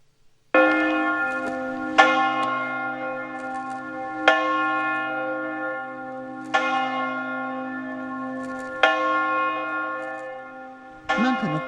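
Church bells toll in slow, evenly spaced strikes, each ring hanging and fading before the next, with no talking.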